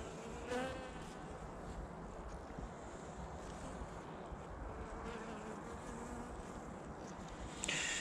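Honeybees hum softly inside a winter hive during an oxalic acid treatment, a faint, steady buzz with a brief louder rustle near the start and the end.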